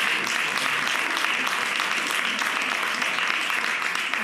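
A live audience at a comedy show breaks into dense, sustained applause that fills the whole stretch at a steady loud level, with no pauses and no voices standing out.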